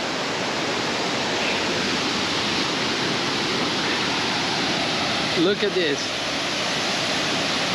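Tad Lo waterfall in Laos roars as a steady, loud rush of falling water throughout, running in low season, with a brief spoken remark near the end over the constant wash.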